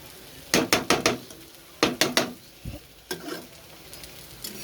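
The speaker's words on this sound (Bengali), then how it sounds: "এখানে একটা ডিম ভেজে নিয়েছি, এখানে এখনও ভাজি হচ্ছে" An egg frying in a pan makes a soft, steady sizzle close by, broken by quick clusters of sharp metallic taps and scrapes from a utensil against the pan.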